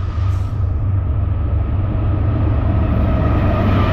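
Norfolk Southern 62V freight train led by an AC44C6M locomotive rumbling past close by, a loud, steady, heavy low roar of wheels and engines that barely changes over the few seconds.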